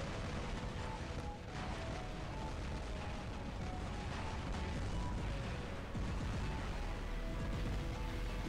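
Robot weapons firing in War Robots, a dense, continuous barrage of heavy gunfire and blasts that holds steady and loud from start to finish, with no voices over it.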